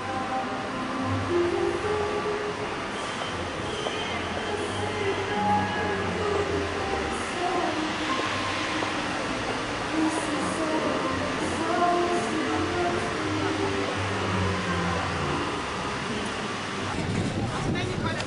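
A Lisbon metro train rumbles steadily with low droning hum and rail noise, a constant enclosed rattle throughout, with faint voices in the background.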